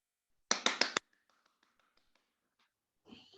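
Hands clap sharply four times in quick succession, close and crisp, followed by faint soft taps and a breathy sound near the end.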